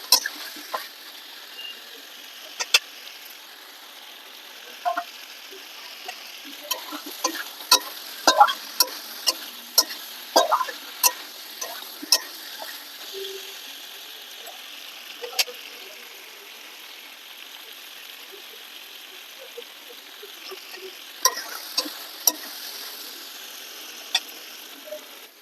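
Mutton and fried potatoes stir-fried in a pan for a home-style curry made without onion or garlic: a steady low sizzle with scattered sharp clicks and scrapes of stirring, close and continuous.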